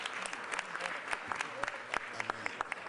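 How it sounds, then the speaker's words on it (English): Scattered applause rises for a city council president at a Philadelphia mayor-elect's government roundtable, individual claps sharp and separate, fairly faint and a little distant, with murmured voices underneath. "Let's give Council President Darrell Clark a round of applause"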